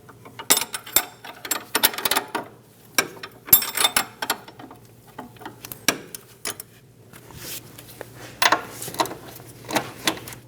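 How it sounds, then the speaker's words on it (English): Wrench tightening a sway bar link nut on the front strut assembly of a 2008-2015 Scion xB, heard as a run of close, quick ratcheting clicks and metallic ticks in irregular bursts, with no talking. "Snug down the nut while holding the stud."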